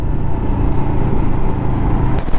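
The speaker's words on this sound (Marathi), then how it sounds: "हे बघा समोर हायाबुसा" A Suzuki Hayabusa motorcycle on a busy Sunday-morning road full of bikers, its engine a steady, fairly loud roar that holds through the whole moment with no clear rise or fade.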